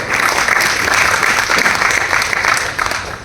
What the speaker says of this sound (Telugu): round of applause